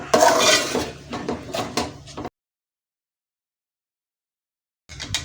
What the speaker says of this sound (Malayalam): ഇനി ഇത് നല്ലപോലെ നമുക്ക് ഇളക്കി കൊടുക്കാം